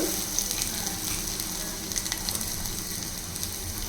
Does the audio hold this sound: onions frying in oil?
yes